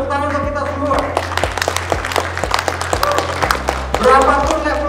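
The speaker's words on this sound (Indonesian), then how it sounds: "Tepuk tangan untuk kita semua." At a pre-launch business event for a multipurpose cleaning product, audience clapping comes in rhythmic bursts over a loud backing track with steady beats and voices mixed in.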